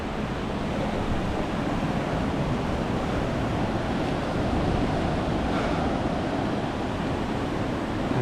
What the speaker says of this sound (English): This beach is nice and calm.